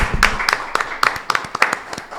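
A small group claps on a podcast, sparse and uneven individual claps with a slight room echo, a few close-up sharp hits and a little background murmur.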